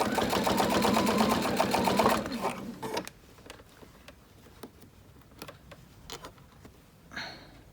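A sewing machine ditch-stitches a quilt in a quick, rapid run of stitches for about two seconds, then stops, leaving quiet room noise with scattered small clicks and taps.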